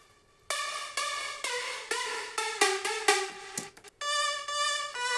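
An aggressive synth lead plays a run of short, bright, buzzy notes in quick succession, then holds a brief sustained phrase near the end, loud and alone with no voices.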